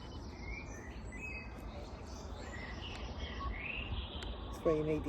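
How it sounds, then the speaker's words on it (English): Birds sing at dusk in the grounds of Crowland Abbey, faint chirps and trills above a steady hiss of background noise, with a brief tonal sound near the end. "There's lots of bird song."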